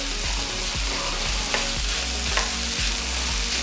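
Vegetables stir-frying in butter in a pan for turkey lettuce wraps, a steady close sizzle broken by rhythmic scraping strokes of a utensil against the pan, about once every half second.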